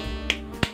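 Two sharp hand claps about a third of a second apart, aimed at a McDonald's 2016 Rosita toy to make it sing, close and crisp against a faint electronic hum.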